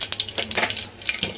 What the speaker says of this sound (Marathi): चांगलं तडतड तुम्ही बघू शकता, आवाज येतो आहे